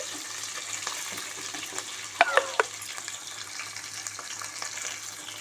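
Tomatoes frying in a pan with curry leaves, a low, steady sizzle heard close, with a few brief clinks of a utensil stirring in the middle.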